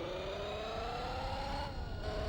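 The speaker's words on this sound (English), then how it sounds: "How disgusting those engine sounds were in GT4" A car engine in the Gran Turismo 4 video game revs steadily with a thin, buzzy synthetic tone, pitch climbing gradually and then dipping briefly near the end, heard alone.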